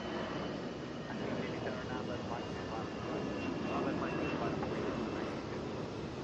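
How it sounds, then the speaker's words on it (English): An Airbus A320 airliner arriving at Atlanta from Toronto makes a steady, broad jet-engine roar that swells slightly midway, with a voice talking faintly underneath. "This is 2468 coming in from Toronto on an A320."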